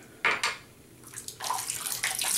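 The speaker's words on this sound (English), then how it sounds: "Let me do a quick rinse." A tap runs briefly to rinse a safety razor, with short bursts of splashing water and a light clink of metal, close and fairly loud.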